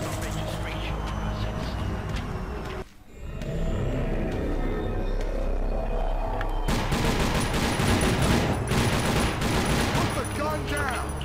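Sustained automatic gunfire from turrets in the PC shooter TimeShift, a dense loud barrage that drops out briefly near the three-second mark before resuming even heavier alongside game effects and voices.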